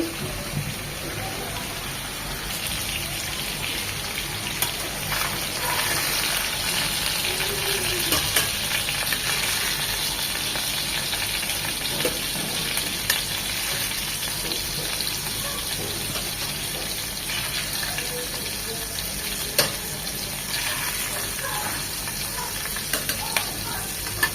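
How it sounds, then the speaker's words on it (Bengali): Boal fish fry in hot oil in a pan, a steady, dense sizzling and crackling that continues unbroken throughout at moderate volume, with a few sharper pops. "বাকি মাছগুলো এই তেলেই ভেজে নেব"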